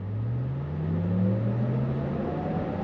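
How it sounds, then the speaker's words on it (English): A 2023 Cadillac Lyriq electric SUV accelerates on throttle, its motor whine rising steadily in pitch over a low, even road and cabin hum. "Now we're gonna go on throttle."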